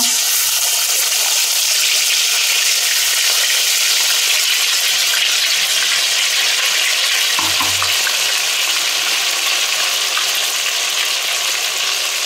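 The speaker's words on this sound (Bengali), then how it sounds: "এবার মশলাগুলো সব এক এক করে কষিয়ে নিচ্ছি" Ground spice pastes such as ginger paste sautéing in hot mustard oil for a Bengali bata fish curry: loud, steady, close sizzling hiss throughout, with a brief stir-scrape partway through.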